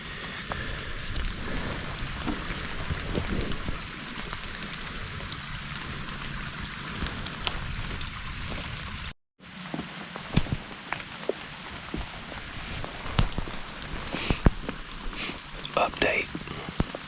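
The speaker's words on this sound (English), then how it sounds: "It's cold and raining." Cold rain falls steadily on leaves and ground in the woods at Lake Russell Wildlife Management Area, a soft continuous patter with scattered sharper drops and brief rustles, interrupted by a short gap.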